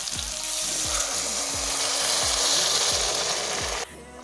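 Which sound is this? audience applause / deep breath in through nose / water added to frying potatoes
water added to frying potatoes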